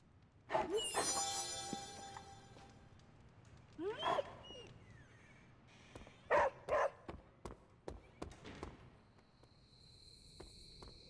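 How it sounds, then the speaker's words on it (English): Charlie, a pet dog in the superhero tactics game Marvel's Midnight Suns, gives a few separate barks and yips at a moderate distance, mixed with quieter game sounds and faint insect-like chirps, with no one speaking. "We do see our pet dog, Charlie."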